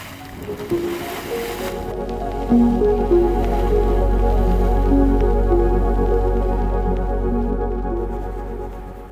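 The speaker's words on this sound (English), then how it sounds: "This is bubbling mud." A bubbling mud pot in Yellowstone National Park: deep, low gurgling plops and squishy bursts over a heavy rumbling wind-like roar, loud and close, with no speech.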